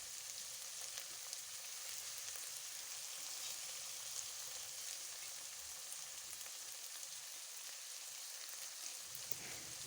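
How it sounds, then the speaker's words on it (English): Minced beef for keema spaghetti sizzles steadily in a pan with salt and paprika, a dense, even crackle of frying that runs unbroken and fairly close throughout, with no talking. "Then I added some minced beef, give it a good mix."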